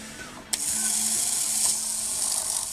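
An Auto World Nova slot car running on a dyno gives a high, steady whirring and buzzing of the small motor and spinning tire, close and loud, after a sharp click at the start.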